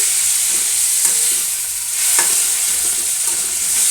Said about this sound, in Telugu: ఇది బాగా కలుపుకోవాలి.